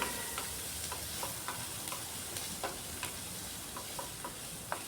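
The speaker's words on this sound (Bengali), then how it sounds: "বারবার নাড়িয়ে পেঁয়াজটাকে একটু মুচমুচে করে ভাজতে হবে।" Chopped onion, garlic and grated ginger stir-fry in oil, making a quiet, steady sizzle dotted with small scattered pops and crackles from close by.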